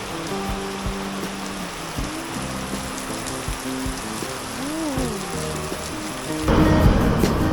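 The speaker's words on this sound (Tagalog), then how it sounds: "Lakas ang ulan." Steady heavy rain hisses continuously on the Kamalig Bypass in Bicol, Philippines, while a vehicle engine hums underneath, its tone shifting, then the downpour grows louder near the end.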